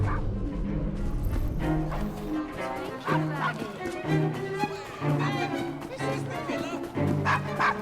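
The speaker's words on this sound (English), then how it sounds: "Nice doggy." A dog in Assassin's Creed Syndicate barks and yips in repeated short bursts over busy game ambience, with people talking throughout.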